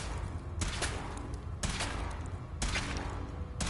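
Weapon fire during a suit test in a video game, with three broad, booming bursts spaced about a second apart over a constant loud rumble and no talking.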